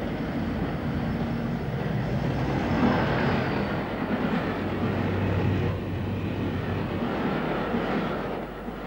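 A 1973 British Rail HST, an experimental high-speed diesel-electric train, running past with a steady, broad roar and rushing wind noise, a faint rhythmic clatter of wheels on track underneath, loud and continuous throughout.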